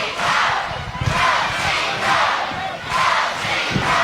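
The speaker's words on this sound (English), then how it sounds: "listen to this crowd for Steve Simpson" A loud wrestling arena crowd roars and cheers for a wrestler in surging waves, rising and falling several times with shouts mixed in, close and dense.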